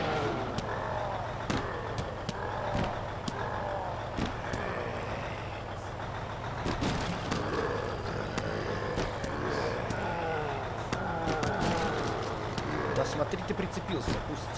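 Car engine drone from a zombie-smashing driving video game, a constant hum with clattery impacts throughout, under near-continuous talk.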